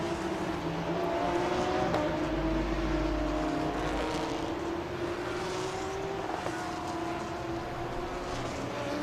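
Race cars, including a Honda NSX, drone past on a circuit during a Thailand Super Series race, with engines rising and falling at a distance under a steady roar and no speech.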